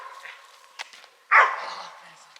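A search and rescue training dog gives a single loud bark after a few softer, broken sounds, with people talking nearby outdoors.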